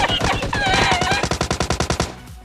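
A rapid burst of automatic gunfire, loud and close, rattling in a fast steady rhythm for about two seconds before stopping abruptly.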